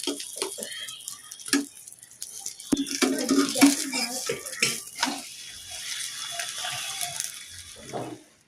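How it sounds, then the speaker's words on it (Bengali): A roti frying on a very hot pan while being pressed down, with sizzling bursts and sharp scraping, clattering taps as it is pushed against the pan, and some voice heard at times. "একটা রুটি বসিয়ে দিব, আবার চেপে চেপে ভেজে নিচ্ছি।"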